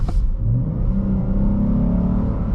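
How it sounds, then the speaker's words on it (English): A 2021 Chrysler 300S V6 engine revs up hard and steadily under full acceleration, a continuous loud rising drone that climbs in pitch and holds throughout, with no voices. "I'm gonna slam down on the accelerator."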